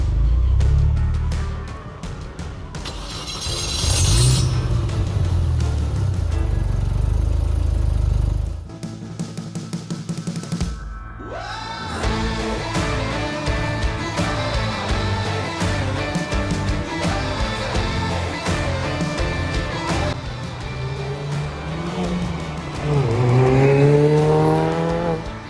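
A Mini Cooper R53 engine rumbles loudly up close, revving several times with rising and falling pitch, with a brief quieter pause partway through.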